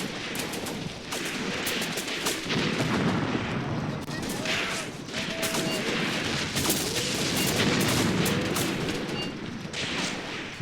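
Battle in the war game Graviteam Tactics: Mius Front, with dense, continuous gunfire and artillery booms overlapping at a loud, chaotic level, sharp rifle cracks scattered over rumbling distant explosions for about ten seconds.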